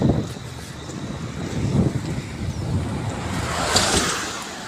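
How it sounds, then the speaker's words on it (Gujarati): The Shetrunji River rushes strongly near a bridge, roaring steadily, broad and continuous, with wind buffeting the microphone and no voices. "જોઈ શકો છો તમે કેટલું પાણી જાય છે શેત્રુજીની અંદર"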